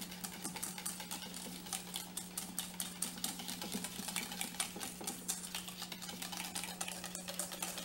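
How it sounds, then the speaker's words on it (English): A lemon, garlic and olive oil dressing whisked in a bowl, rapid rhythmic clicking strokes against the container, close and quiet, over a low steady hum. "then we whisk it all together"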